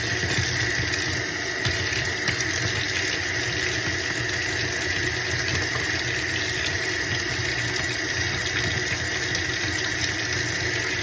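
Hot water pours steadily from a tap into a tub or sink for soaking laundry, a constant close rushing flow with no voices.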